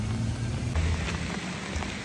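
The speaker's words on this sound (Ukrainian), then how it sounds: "Дощ йде, ми дощу радуємося" Rain falls steadily over farmland where a Lovol tractor is being shown, a constant close hiss of drops with low rumbling underneath and no voices.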